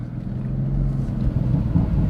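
A steady low rumbling drone comes from a BMW M3 E30 on the move with a Valvetronic competition exhaust, building slightly toward the end, heard up close without speech.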